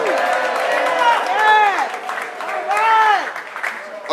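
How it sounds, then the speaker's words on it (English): A crowd at a City Hall rally of a Chicago housing coalition bursts into applause and cheering, a dense wash of clapping under a voice speaking loudly over it. "So give yourselves a round of applause."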